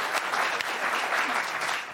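Studio audience applause on a late-night talk show, a steady wash of clapping from a live crowd, fairly loud and continuous for a couple of seconds with no talk over it.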